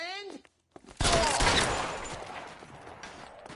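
Gunfire in the video game L.A. Noire: a sharp loud burst of shots that rings out and decays into a sustained rumbling roar, preceded by a brief voice.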